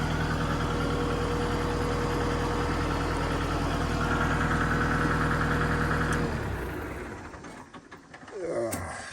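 A tractor engine idles loudly and steadily for several seconds with a rhythmic low chug, then the sound drops away as things go quieter near the end.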